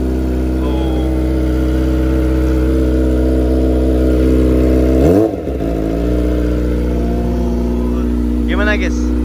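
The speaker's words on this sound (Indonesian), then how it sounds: "Ini biar kita tahu suara geberan dan raungan dari jetek ini" A Kawasaki Ninja ZX25R with an aftermarket exhaust drones loudly at a high, steady idle, then gives one sharp blip of revving midway before settling back into the same heavy, close rumble.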